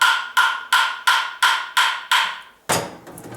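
Hammer repeatedly striking a Ford 9 inch differential center section, seven sharp metallic blows at an even rhythm, close and loud, then a heavier, duller clank at the end.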